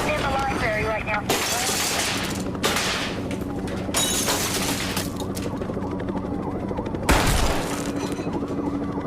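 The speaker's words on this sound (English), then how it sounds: "He's shooting in the library right now." Gunfire in a library scene from the video game Columbine Zero Hour comes as several loud, sharp bursts spaced a few seconds apart, with voices and game sounds running underneath.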